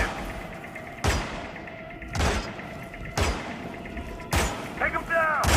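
Gunfire in the Hitman video game: four loud, sharp shots spaced about a second apart, each ringing out briefly, with shouting voices mixed in near the end.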